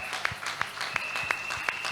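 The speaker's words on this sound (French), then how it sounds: "Acclamez pour elle." Congregation applause at a church healing service, a short burst of steady clapping with a few sharper claps, heard at moderate volume.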